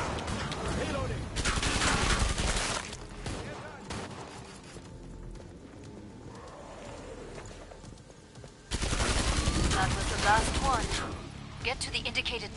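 Gunfire in the co-op zombie shooter Killing Floor 2 on PS4 Pro, loud bursts of shooting in two main stretches separated by a quieter lull, with game voices speaking in between.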